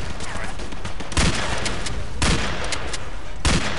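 Gunfire in the video game Battlefield 2 comes as loud, close bursts, with three heavy volleys standing out over a continuous crackle of shots, and no speech.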